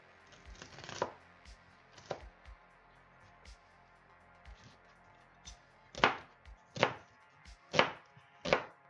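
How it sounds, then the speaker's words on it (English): A knife chops roughly through carrot, sweet potato and mushroom on a board for soup: scattered single thuds early on, then four loud, evenly spaced chops close by near the end. "rough chopping"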